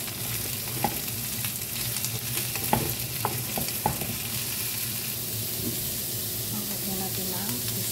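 Mixed vegetables stir-fried together in a pan give a steady sizzle, with scattered clinks and scrapes of the utensil as they are tossed, close and continuous with no talking.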